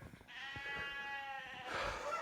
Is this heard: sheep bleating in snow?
yes